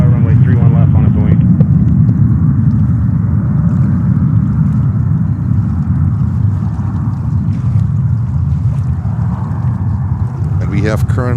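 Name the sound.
airliner taking off from JFK runway 31 left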